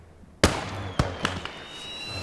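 A mortar shell bursts in the Gates of Hell WWII strategy game, one sharp, loud blast followed by two or three smaller cracks, with a faint whistle trailing overhead.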